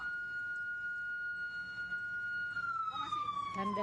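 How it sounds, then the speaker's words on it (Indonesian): Siren signalling the departure of a hearse at a military funeral procession, a steady distant wailing tone that gently falls in pitch, faint over background noise with a few rising clatters near the end. "Tanda sirene sudah dibunyikan."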